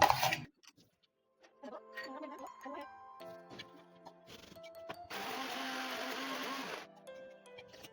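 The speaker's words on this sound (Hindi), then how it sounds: "दाल पिस चुकी है" Electric grinder grinding soaked urad dal in a home kitchen, a buzzing whir that starts after some quiet clinks and kitchen handling and runs steadily for under two seconds before stopping.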